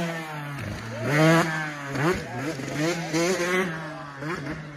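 A motorcycle is being ridden, its engine rising and falling in pitch through a series of revs at moderate loudness, close by and without talk.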